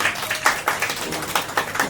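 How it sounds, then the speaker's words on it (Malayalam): An audience at a fifth-anniversary event claps for a team's hard work, a brief, moderately loud ripple of applause from a modest crowd. "സോ ആ ഹാർഡ് വർക്കിന് നമ്മളൊരു കൈയടി കൊടുക്കേണ്ടതുണ്ട്."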